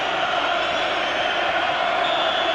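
Roar of a football stadium crowd of nearly 70,000 at an all-seater final, Nottingham Forest against Southampton, a dense, steady wash of massed voices from a distance, constant throughout.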